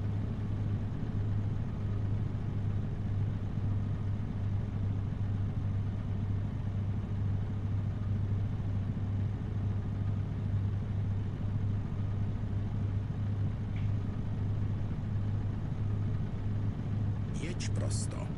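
A 455-horsepower truck engine idles in American Truck Simulator, holding a continuous low, even drone that never changes, with a brief faint click near the end.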